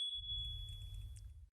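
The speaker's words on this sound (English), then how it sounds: "you will hear a small bell sound" A small bell marks a panelist's time running out at an online meeting, a single thin high tone ringing steadily and faintly over a low background rumble.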